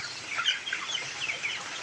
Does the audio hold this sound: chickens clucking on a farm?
yes